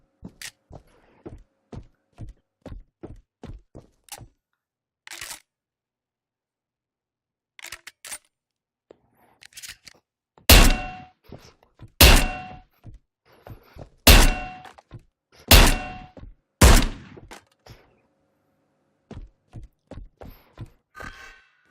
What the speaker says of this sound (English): Now pick up the individual shells with grip and load them into the shotgun.